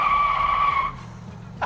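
Close, loud tire squeal as a Toronado car skids on pavement, a high sustained screech that cuts off under a low engine rumble.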